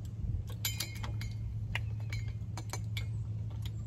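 A metal spoon clinks repeatedly against a mug while honey is stirred in, bright irregular taps up close over a low steady hum, with no talking.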